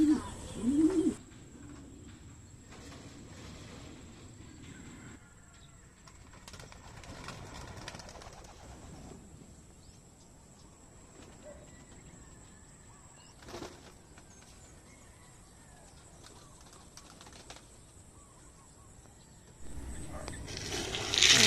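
Young racing pigeons let out of a loft, with bursts of flapping wings at the start and end and soft cooing in between, set against a steady background hiss.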